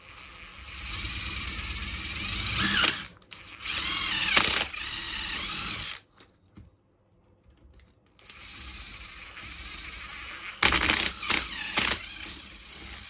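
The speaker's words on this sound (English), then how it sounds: "All right, I got my trusty 1/8 drill bit." A small power drill with a 1/8-inch bit whirs in several short bursts up close in a shop, revving and slowing with brief pauses and one longer silence between runs.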